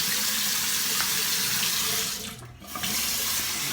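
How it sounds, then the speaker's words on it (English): Hot water gushes steadily from a tap during a face rinse after a shave, loud and close, briefly cut off partway before flowing again. "Let's rinse the face. First with a little hot water as I drop my towel."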